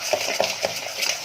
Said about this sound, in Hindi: अब इसको घोटूंगी और पूरी शक्कर पिघलाऊंगी।